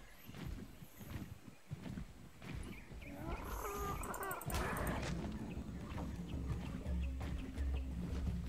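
A dog in the video game ARK gives low growling, snarling animal calls over a rumbling, busy game backdrop. A rising vocal cry comes midway, then a steady low drone builds toward the end.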